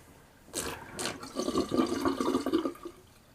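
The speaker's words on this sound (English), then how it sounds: "So, I'll drain my sink." Shaving water drains out of a bathroom sink in a short gurgling rush that starts abruptly, bubbles and swirls for a couple of seconds, then trails off; close and fairly loud, no talking.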